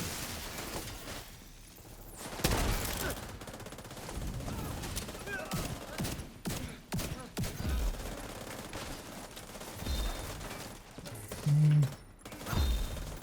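Rapid gunfire bursts crackle through a video game firefight, with overlapping shots and brief pauses, fairly loud against a busy game soundscape with a voice speaking in places.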